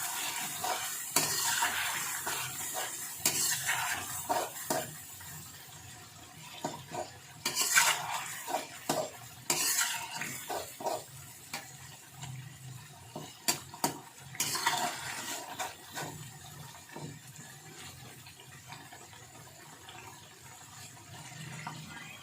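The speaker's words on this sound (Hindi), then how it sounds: "दही डालने के बाद इसकी अच्छे तरीके से हम भुनाई कर लेते हैं।" Chicken masala with spoonfuls of yogurt is stirred and roasted in a pot, with irregular metal clinks and scrapes of a spoon against the pot over a faint low sizzle, close by and with no voices.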